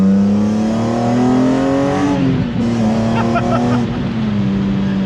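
A BMW E30 M3 fitted with an S54 engine revs loud and close. Its strong, buzzy tone holds high and steady, dips briefly midway, then climbs back.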